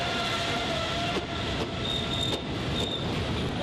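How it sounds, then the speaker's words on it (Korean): A commuter train arriving at a station in Sri Lanka rumbles loudly and steadily close by, wheels grinding and faint squeals cutting through the constant roar. "이 많은 사람들의 발이 되어줄 열차가 드디어 한 대 도착했습니다."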